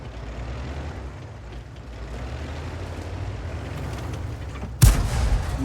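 A World of Tanks tank gun fires a single loud, sharp blast near the end, cutting above a steady low engine rumble.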